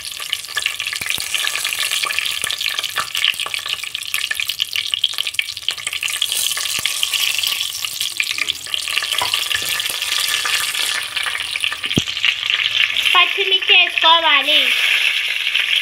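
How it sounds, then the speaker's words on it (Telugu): Whole garam masala and a bay leaf frying in hot oil for biryani give a loud, continuous crackling sizzle close by; near the end a voice briefly rises over the frying. "హోల్ గరం మసాలా వేసుకున్న తర్వాత బిర్యానీ ఆకు వేసుకోవాలి."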